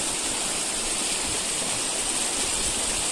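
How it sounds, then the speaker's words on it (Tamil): A waterfall at Kalugala Gerandi Ella near Udadumbara, Sri Lanka, pours in a steady, dense rushing roar that holds evenly throughout, close and loud, with no voices over it. "அதுதான் வாட்டர்ஃபால் எட்ஜ்."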